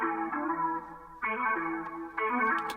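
Trimmed sample of a guitar melody, the hook of an afrobeat beat, a chorus-laden, echoing phrase that swells back in three times over a few seconds, steady and alone.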